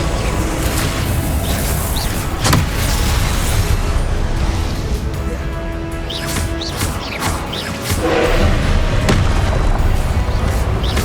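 Confringo and Expelliarmus spells cast in the video game Hogwarts Legacy: dense, loud bursts, booms and crackling impacts pile up continuously with no pause.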